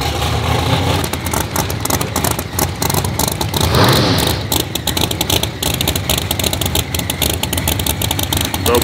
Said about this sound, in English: The loudest one on the property, that is the 66 Chevelle of Craig Shefchik.